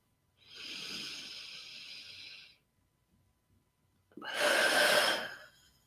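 A deep inhale lasting about two seconds, a pause, then a stronger, louder exhale blown out through the mouth, close and breathy, with no talking, as in a guided meditation breathing exercise.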